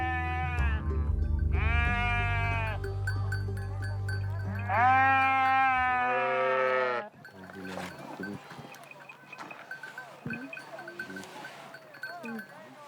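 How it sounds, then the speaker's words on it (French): Sheep bleat near a newborn lamb with nomadic herders in Iran: several loud, wavering bleats come in overlapping bursts, then die away to rustling and faint scattered background sounds. "Il y a un agneau qui vient de naître."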